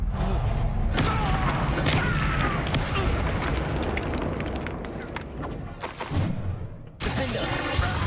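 A Confringo fire curse erupts in Hogwarts Legacy combat, a heavy booming blast with crackling, shattering debris that rolls on for several seconds before a sudden cut to another burst of magical noise.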